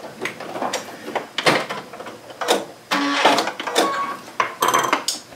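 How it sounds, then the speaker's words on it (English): A sewing machine over-stitching the seam of a Christmas gift tote bag: close, rapid mechanical whirring in short bursts separated by brief pauses, each run starting and stopping abruptly. "I'm just over stitching where I began"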